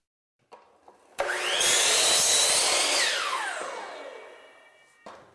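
A miter saw cuts through a wooden board: a click, then the motor spins up loudly, bites through the wood for a couple of seconds and winds down, followed by a final knock.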